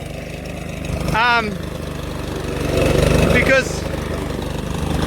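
A Big Bob lawn mower scalping a lawn very low, its engine droning steadily close by and bogging down under load, with someone talking over it.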